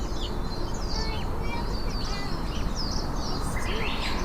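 Birds chirp and call in short, repeated bursts at an English beach, moderately distant, over a steady wash of background ambience, with no talking.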